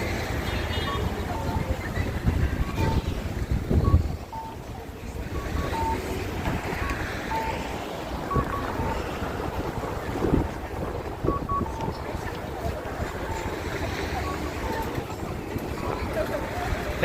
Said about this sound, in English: it's really windy from time to time